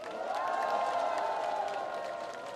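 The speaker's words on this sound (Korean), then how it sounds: "다시 한번 큰 박수 부탁드립니다." Applause from a crowd at a Korean campaign event, moderately loud and steady, with a tonal hum beneath the clapping and a faint cheer mixed in.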